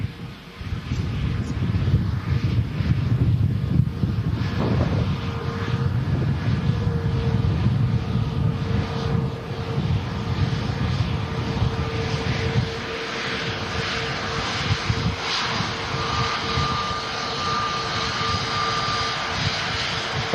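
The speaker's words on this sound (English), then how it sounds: "There's the first of 2 EasyJets arriving." EasyJet airliner arriving, a steady low engine roar with wind buffeting the microphone, continuous and fairly loud for the whole stretch, with a faint tonal whine rising in the background.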